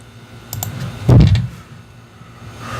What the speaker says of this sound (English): I'm just going to Google and typing in Robert Traylor